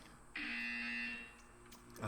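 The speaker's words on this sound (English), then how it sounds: "You will hear a buzzer." A buzzer in the video game Portal 2 sounds as one steady electronic tone lasting about a second, rising abruptly and fading out over a faint background hum.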